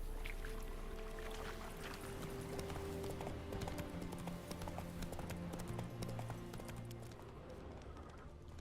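Roach, a horse in The Witcher 3, gallops with a steady, rapid clip-clop of hooves over continuous ambient game sound, moderately loud and close.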